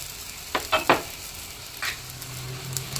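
Malt pancake batter is poured into a hot pan in small portions, giving a soft continuous sizzle with brief clinks and stirring scrapes.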